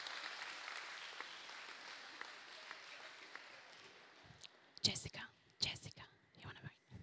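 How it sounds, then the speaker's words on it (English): Audience applause at a secondary school awards and graduation ceremony honouring middle school senior leaders: a steady wash of clapping for about four seconds, then louder, choppy sounds from nearby voices and movement. "Please give all our middle school senior leaders for 2023 a big round of applause"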